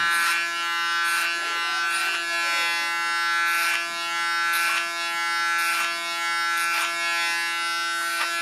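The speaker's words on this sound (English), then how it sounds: "It's a Panasonic Clipper and it's the new version, the latest there is on the market." A new-model Panasonic electric hair clipper cuts short hair on the sides of the head, giving a steady close buzzing hum with a strong tonal whine, broken by regular soft swells as the blade passes through the hair.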